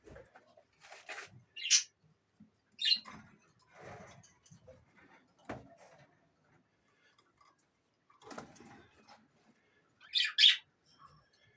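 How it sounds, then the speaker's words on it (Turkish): Parrots and budgies in an indoor bird room give short, sharp chirps and tweets in scattered bursts, close by, with quiet gaps between calls. "Burada da böyle tekleme kuşlarımız var."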